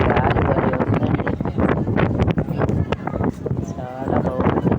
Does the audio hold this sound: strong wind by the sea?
yes